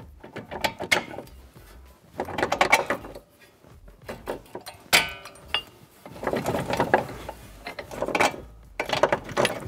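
Loosening the lower mounting bolts on the front strut of a 12th-generation Toyota Corolla, with bursts of metallic ratcheting and clanking from tools working the fasteners, in separate close clusters broken by brief pauses.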